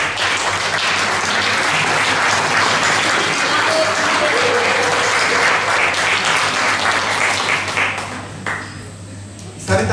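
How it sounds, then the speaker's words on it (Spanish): A congregation at a healing and deliverance retreat applauds in a sustained, loud burst of many hands clapping that fades near the end, and a voice comes in briefly over the dying applause. "A propósito de Manuel y Sabrina, darle un aplauso de felicitación"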